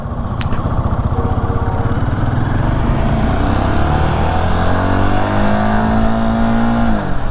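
A motorcycle engine, a Royal Enfield Himalayan 450 or Interceptor 650, revs hard in first gear to 7000 RPM, steadily climbing in pitch, loud and close, holding a high buzzing drone before easing off near the end.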